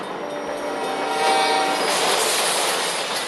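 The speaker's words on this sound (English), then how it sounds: "The locomotive plows into the bed of the truck" A loud, continuous roar of a locomotive thundering past and plowing into a truck bed, with grinding metallic noise swelling near the middle and holding steady.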